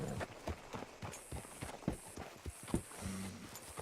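Steady clip-clop of horse hooves trotting over hard ground in Red Dead Redemption 2, close and fairly loud, with a continuous high tone ringing in the background.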